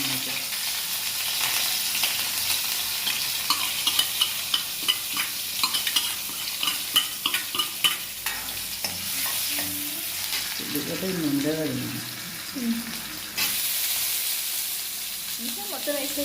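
Spices and fenugreek seeds for a vegetable sambar tempering crackle and sizzle in hot oil, a steady busy hiss with scattered pops and intermittent stirring scrapes, close and fairly loud, with brief background voices.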